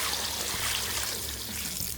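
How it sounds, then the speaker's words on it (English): Water pours steadily from a container into a cooking pot holding catfish, a continuous close splashing trickle with no talk. "Onto that I add some water"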